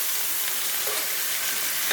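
Chicken pot pie filling with minced garlic cooking down in a pan, a close, steady hissing sizzle with fine crackle throughout and no voices.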